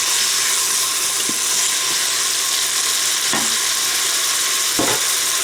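Food browns in a frying pan with a constant, close, loud sizzle and a few faint clicks of stirring.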